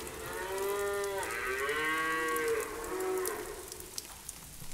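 Cattle on a French farm let out several long, low moos in close succession, loud and near, with a quieter patter like light rain in the background.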